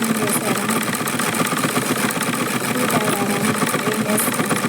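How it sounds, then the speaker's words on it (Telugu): A sewing machine stitches the back panel of a blouse, running as a steady continuous motor whir with rapid needle chatter, close and loud throughout. "అందు గురించి మిషన్ కుడుతూ తీస్తున్నాను."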